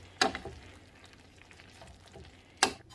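Chili being stirred in a pot on the stove, with a faint steady sizzle underneath and two louder scraping strokes of the spoon, one near the start and one near the end.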